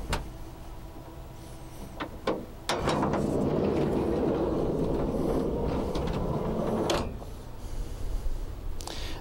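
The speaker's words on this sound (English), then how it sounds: "So the doors are on hydraulic struts." Hydraulic-strut belly storage doors on a DRV Mobile Suites 38-foot 5th wheel RV moving with a mechanical whir and clunks, a sustained hum of several seconds followed by scattered clicks as they settle.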